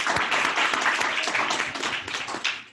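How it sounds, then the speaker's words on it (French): A post-screening discussion audience breaks into brisk applause, a full, close burst of many hands clapping that thins slightly toward the end. "Je pense qu'on peut l'applaudir."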